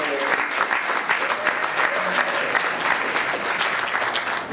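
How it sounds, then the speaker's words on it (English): A room full of people gives a sustained round of applause at a summer gathering in Ogunquit, Maine, dense, even clapping with a crowd murmur underneath, holding steady for several seconds. "Give him a round of applause."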